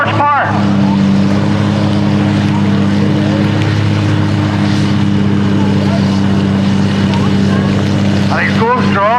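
A Claas Xerion 3300 diesel tractor rated at 180 horsepower pulls a load at a tractor pull, its engine a loud, steady, continuous drone throughout with a low hum, close and unbroken.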